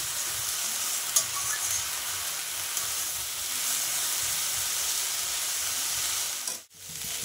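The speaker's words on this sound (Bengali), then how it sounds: "দেখো শাকটা তো ভাজা প্রায় হয়ে আসছে, আর খানিকক্ষণ ভাজলেই হয়ে যাবে।" Water spinach (kolmi shak) frying in a pan, a steady close sizzle and hiss running throughout with faint stirring scrapes and no talking.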